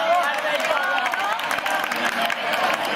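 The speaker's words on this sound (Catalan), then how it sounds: "Tolo, un aplaudiment per Tolo." Guests at an outdoor summer festival dinner applaud together, a steady wash of clapping with a few scattered shouts, moderately loud and continuous.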